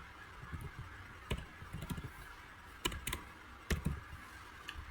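Light, irregular keystrokes on a computer keyboard, a few soft clicks and taps at a time over a quiet room hiss, with no voices.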